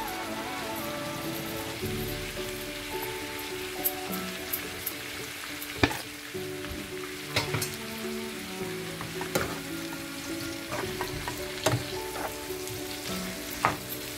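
Hot chili sauce goes into chicken frying in a pan with soy sauce, giving a continuous close sizzle broken by repeated sharp clinks and scrapes of a spatula against the pan.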